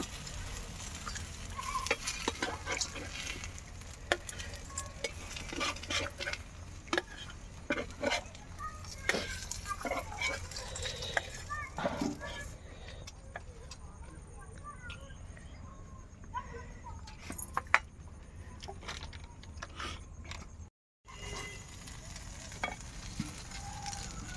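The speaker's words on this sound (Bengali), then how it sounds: "বাকি মাছগুলো ভেজে নেব" Steady sizzling of snakehead fish frying in hot oil fills the whole stretch, with occasional scraping and clatter from stirring and a brief silent break near the end.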